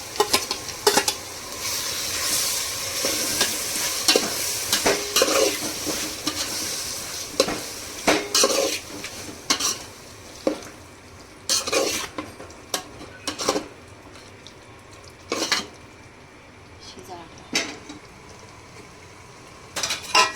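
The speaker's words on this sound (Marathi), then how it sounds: "तर आता आपण त्यामध्ये कोळंबी सोडूया मॅरिनेट केलेली." Marinated prawns fry in a pan for prawn biryani, giving a steady sizzle under repeated scraping and clinking strokes of a spoon stirring them, close up with no talking.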